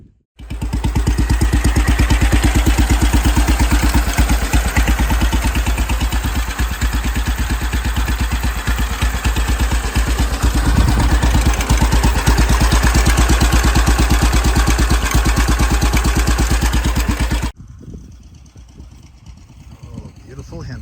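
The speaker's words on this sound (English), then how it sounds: "Beautiful Henderson." A pre-war Henderson motorcycle engine idles loud and close at a vintage motorcycle ride, with a steady, rapid firing rhythm for most of the time before it cuts off, leaving quieter background murmur.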